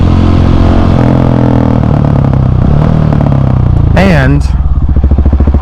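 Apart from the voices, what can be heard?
KTM 701 Supermoto and Ducati Hypermotard 950SP riding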